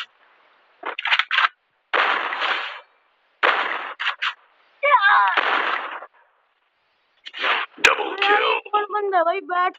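Sharp, punchy gunfire bursts from the video game Free Fire, including a loud crack near the end, are mixed in among stretches of talking.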